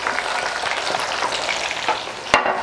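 Peppers and onions fry in a hot pan for Japanese sweet-and-sour pork, a loud close crackling sizzle with soft stirring and a sharp clack near the end.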